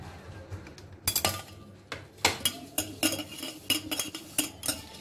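Mushrooms being mixed with lemon juice and salt in a bowl: a spoon clinks and scrapes against the dish in irregular bursts, close and fairly loud, with no voices.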